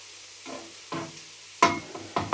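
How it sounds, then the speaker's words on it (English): Onions and mushrooms frying in a pan over high heat, with several short bursts of sizzling and stirring that grow louder toward the end, heard close up with no talking. "So I'm doing the softening the onions and the mushrooms on the high heat."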